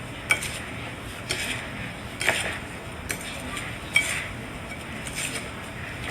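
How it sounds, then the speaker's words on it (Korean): A utensil stirs sliced green tangerines with an equal weight of sugar in a bowl, producing soft scraping and occasional light clinks against the dish, fairly quiet and close. "잘 섞어주시면 이제 예. 설탕이 녹아 들어갑니다."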